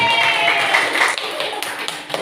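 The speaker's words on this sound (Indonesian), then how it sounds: "tepuk tangan Bapak Ibu." A crowd claps steadily together, a dense wash of applause that fades a little toward the end.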